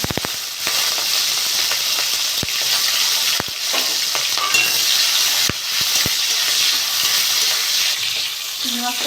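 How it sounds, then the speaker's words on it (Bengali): Prawns frying in hot mustard oil in a kadai, giving a loud, continuous close sizzle with scattered sharp pops and utensil knocks throughout, no talking. "চিংড়ি মাছটা আমি ভেজে দিয়েছি"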